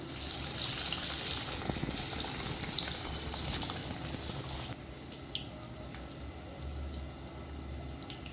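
Paneer cheese cutlet dropped into hot oil fries with a steady, dense crackling sizzle throughout, loud at first and settling slightly quieter partway through, with no talking.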